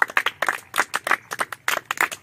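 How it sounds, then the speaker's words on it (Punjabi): A group of kabaddi players clapping in rhythm during a training drill, with sharp, close, evenly spaced claps in quick bursts and no talking. "ਤਾੜੀ ਨਾਲ"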